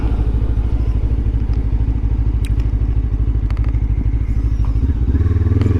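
A Lifan KPT 400 motorcycle engine pulls toward highway speed, a loud close steady low-pitched drone with a fast pulsing beat and wind rush, shifting in tone near the end.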